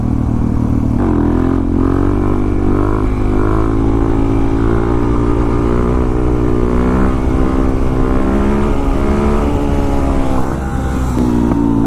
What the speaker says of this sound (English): I think that tied my best for trying to wheelie up that hill.